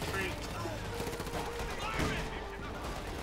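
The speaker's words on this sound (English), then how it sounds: "Machine guns, anti-tank guns" Machine guns and anti-tank guns firing in a Company of Heroes 2 battle, dense overlapping bursts and cracks in a continuous fusillade under a faint voice.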